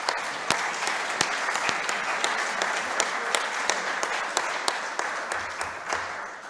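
Audience applause at a lecture event fills the room as a steady, dense wash of clapping with sharp individual claps standing out, holding at an even level throughout and alone without talk.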